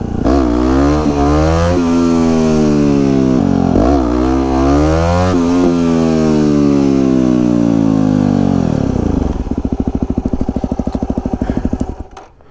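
Close, loud engine of a Triumph Daytona 600 motorcycle being ridden, revs rising and dropping through several gear shifts before easing off into a lumpy, pulsing lower throttle near the end; no talking.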